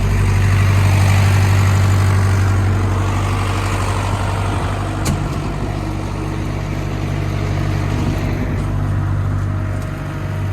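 An old Deutz tractor engine runs steadily at raised revs through the PTO, driving the four augers of an old feed mixer wagon on a farm, giving a loud continuous low rumble and drone with no talk.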